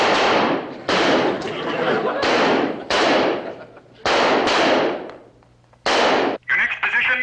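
Rifles fire on a shooting range during a standing-position qualification drill, a series of loud, sharp single shots spaced a second or so apart, with faint talk near the end.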